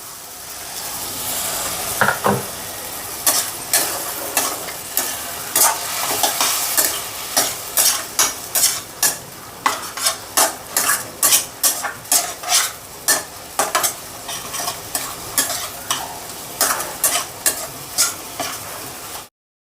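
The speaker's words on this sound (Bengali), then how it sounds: "এবার যতক্ষণ না এটা ওই মশলার গন্ধটা বেরিয়ে ততক্ষণ কষিয়ে যাব" Spice masala is stir-fried in a wok with a little water, a low sizzle under a rapid, regular series of sharp spatula scrapes and clinks against the metal, close and loud, no voices.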